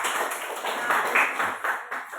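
Classmates in a classroom clap after a group presentation, a steady patter of hands of moderate loudness that continues without pause, with a little background murmur.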